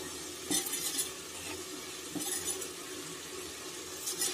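Lentils are tipped into hot masala, sizzling and hissing in the pan as they are stirred, with scraping clinks over the steady frying noise.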